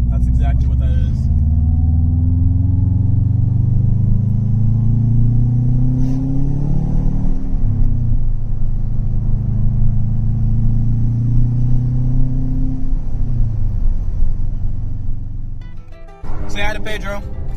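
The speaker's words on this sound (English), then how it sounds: "Don't mind the exhaust hanger squeaking." A car drives along with a low engine drone rising and falling through gear changes, while a faint intermittent squeak from a loose exhaust hanger rides over the rumble; a brief clatter comes near the end.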